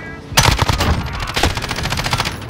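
Rapid automatic gunfire in Modern Warfare Search and Destroy, a loud close burst of repeated shots that starts abruptly and continues densely to the end.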